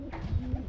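Soft low cooing from a young pigeon sitting in its nest, a faint murmuring coo repeated a few times at close range with no talk over it.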